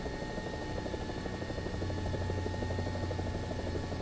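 Helicopter rotor and engine in the War Thunder flight simulator, a continuous low chopping thrum with a steady whine above it, with no talking.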